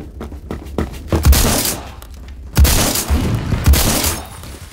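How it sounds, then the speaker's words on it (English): Gunshots in the Roblox-style shooter Phantom Forces, a loud, busy mix of rapid shots, heavy booming thumps and echoing bursts in two dense waves. "And oh, I hear gunshots."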